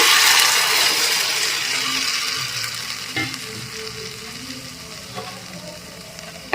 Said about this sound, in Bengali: এবার আমি টমেটোর পেস্টটা ঢেলে দিচ্ছি এটা ছেঁকে রেখেছি